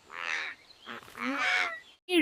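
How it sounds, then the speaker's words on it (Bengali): Loud, harsh squawking calls from a macaw in the Amazon jungle, several raucous cries in quick succession close by, ending with a sharp burst. "ওই দেখো অ্যামাজনের বিখ্যাত ম্যাকাউটিয়া পাখি"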